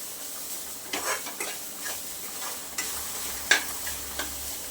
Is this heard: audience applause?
no